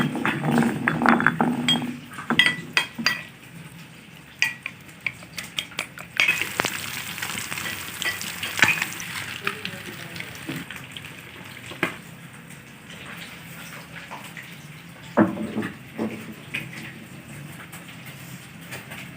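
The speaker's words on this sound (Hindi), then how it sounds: "आधी मछली फ्राई हो गई है ये, और आधी हमारी हो रही है" Steady hiss and crackle of fish frying in hot oil, with occasional clinks and scraping of a utensil stirring the pan.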